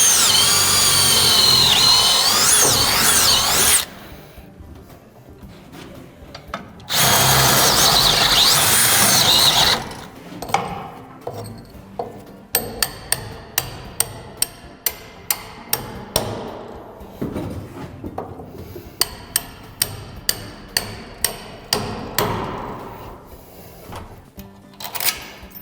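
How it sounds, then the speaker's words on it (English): Impact wrench tightening a nut while installing a MiTee cargo lift on a wood post assembly, heard as two long loud buzzing bursts followed by many sharp rapid rattling hammer blows in close succession. "Take your impact wrench, tighten the nut, and then you're going to repeat it for the other 2 holes."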